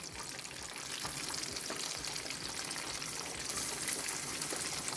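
Peppers and onions frying in butter in a pan for shrimp spaghetti, a soft, steady hiss and crackle that grows slightly louder after the first second and stays even, alone with no talk.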